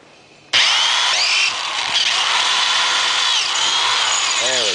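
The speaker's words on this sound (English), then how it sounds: "I'm trying to keep the drill straight, not bent in any direction other than this angle" A power drill suddenly starts and whines loudly and continuously, its pitch shifting as the bit bites into pipe while building a tripod swing set, close by.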